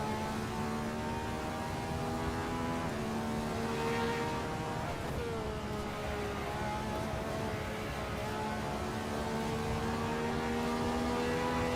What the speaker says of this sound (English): This has got like the sound of a 1970s Formula car